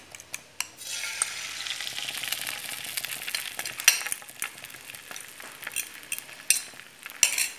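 Beaten egg with parsley and garlic frying in a pan, a steady close sizzle with scattered scrapes and clinks of a utensil against the pan, no talk.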